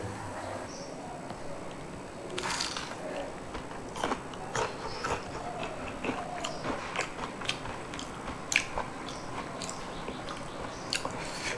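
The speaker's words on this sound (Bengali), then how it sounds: "কামড় দিলে একটা ক্রাঞ্চিনেস আছে কামড় দিলে কোরমোর করে উঠে" Crunchy fried shrimp vada, made from leftover small prawn parts, bitten and chewed: a series of sharp, close crisp crunches and clicks repeating irregularly over quiet background.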